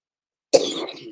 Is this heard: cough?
yes